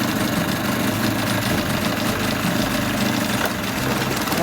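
A 1983 Mercury 25hp 25XD outboard motor runs steadily in gear on a lake, a continuous loud mechanical drone with a fine vibrating texture and no pauses, with no one talking over it.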